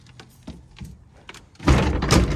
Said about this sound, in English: Let me go ahead and shut this door, if I can, which I can.